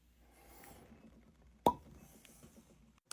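A cork pulled from a 100-proof whiskey bottle distilled in spring 2018 gives one crisp, close pop midway, rising out of quiet room hiss and fading quickly.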